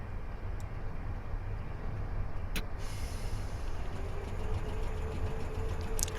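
Steady low rumble of a Class 319 electric train motor in a video game, climbing uphill, with a faint rising whine, continuous and fairly close, with a brief hiss partway through.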